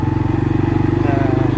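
A 2022 CFMoto CForce 500 ATV engine runs while riding in high mountain desert, a loud close pulsing drone with a rapid even firing beat, and a voice talking over it.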